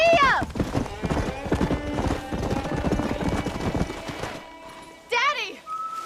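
Horse hooves from the Red Dead Redemption video game clop rapidly and loudly under layered game music and voices, followed by a whinny near the end.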